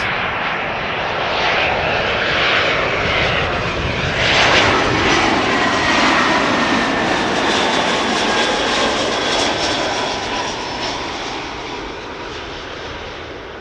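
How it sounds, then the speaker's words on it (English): An Airbus A319 airliner arrives at Amsterdam Schiphol, its jet engine roar building to a peak midway then slowly easing off, with no voices. "A319 coming in next."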